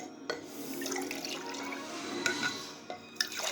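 Sweetened tea poured back and forth between a tumbler and another vessel to cool it, a faint, continuous liquid stream with small splashes and a few clinks near the end.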